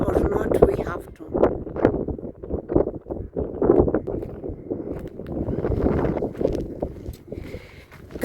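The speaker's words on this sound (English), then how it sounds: "Guys, you can hear that wind." Heavy wind in Naivasha, Kenya, buffeting the microphone in loud, uneven gusts and rumbles while a person talks over it.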